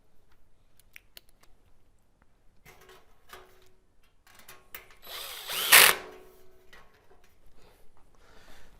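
A power drill drives screws into an outdoor propane pyramid patio heater during assembly. Scattered taps and clicks lead into one close, loud burst of driving about a second long, then quieter handling noises.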